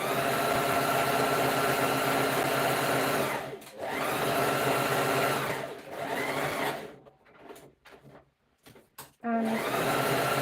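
A sewing machine stitches fabric for a scarf with a steady, fast mechanical whir close by, stopping and restarting twice before falling into scattered handling clicks and a short final run.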